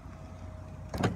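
The power rear liftgate on a 2015 Cadillac SRX closes at one touch, a low motor hum ending in a short, solid thud as it latches.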